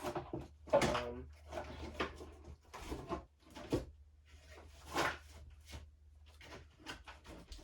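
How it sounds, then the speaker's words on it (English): Someone rummages through a kitchen drawer looking for a knife, producing a steady series of clattering, knocking and scraping sounds of utensils and wood, fairly close and moderately loud. "I'm not gonna search my entire freaking drawer for one."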